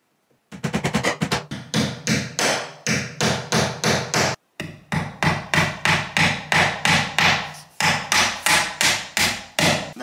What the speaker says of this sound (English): And then using some panel pins, whack it in.